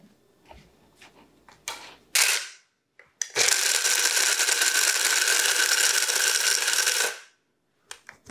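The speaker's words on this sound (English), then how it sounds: "I'm just going to get my spice grinder, and that's what I'm using to grind down my nuts." Spice grinder breaking down a cup of pistachio nuts, a few loud clicks and rattles, then a roaring whir of about four seconds that stops abruptly, close up with no talk.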